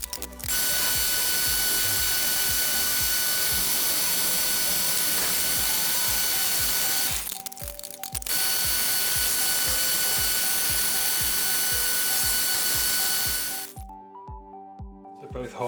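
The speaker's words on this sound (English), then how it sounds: "I will actually run a pilot drill down both those holes first" A pilot drill bores two holes into a steel lathe fixed toolpost on a WM250V, a steady machine whine with rapid rhythmic clicking, briefly pausing midway, then stopping near the end.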